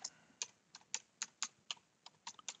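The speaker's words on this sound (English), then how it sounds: "You don't have to watch me type." Someone types on a computer keyboard, giving about a dozen quiet, crisp, close key taps at an uneven pace with no speech.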